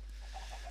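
Chickens in a farm-building video game give a few faint, quick clucks in steady succession over a low constant hum, with no talking.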